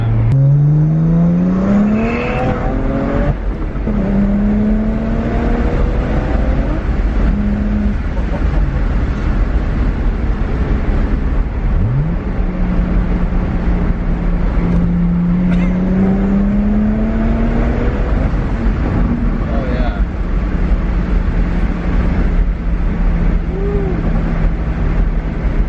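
A turbocharged BMW 1M's engine and exhaust rise repeatedly in pitch through gear pulls, with brief drops between shifts, heard from inside over constant road noise and without any talking.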